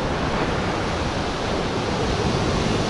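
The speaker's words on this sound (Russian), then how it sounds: "какие волны шуруют." Storm surf pounds a beach at Alushta on the Black Sea, a dense, continuous roar of crashing waves filling the air at close range with a windy hiss and no voices.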